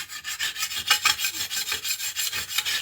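A knife blade is drawn across a 400 grit sharpening stone in steady, rhythmic rasping strokes, close up and alone, roughly six or seven passes in under three seconds.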